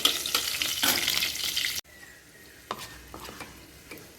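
Green chilies, panch phoron and bay leaf frying in oil in a wok: a loud crackling sizzle with stirring scrapes that cuts off abruptly, followed by quieter sizzling and occasional clinks.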